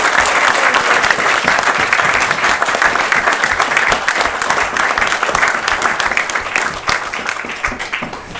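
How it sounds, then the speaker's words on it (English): Wedding guests give a loud, close round of applause during the reception speeches, many hands clapping steadily before tapering off slightly at the end. "So I'd like everyone to give us a round of applause for a fantastic day."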